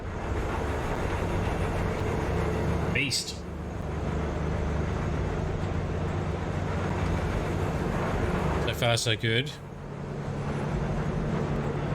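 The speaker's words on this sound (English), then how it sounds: "The train to block the convoy." A train rolls along in the Cyberpunk 2077 game, a steady rumbling drone throughout with two brief sharp screeching bursts, the second longer, while a few words of talk pass over it.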